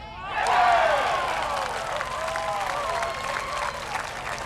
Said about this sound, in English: Crowd gets excited because it's going in.